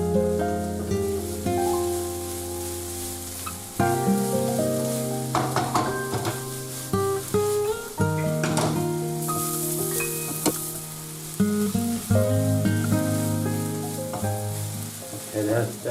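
Mushrooms frying in foaming butter for beef stroganoff, with a steady loud sizzle, occasional stirring clatter, and music playing underneath throughout.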